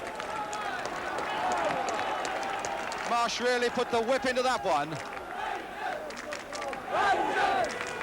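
Loftus Road football crowd at a QPR v Birmingham City match roaring in swelling surges behind a commentator talking over the top, with a sharp burst of massed shouting in the middle.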